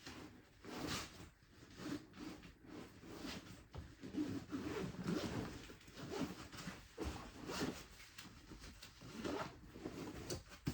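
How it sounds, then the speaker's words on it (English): A compression packing cube's second-layer zipper drawn all the way around, a steady run of close ratcheting rasps and tugs with brief pauses and fabric rustle, no voices. "Zip it all the way around."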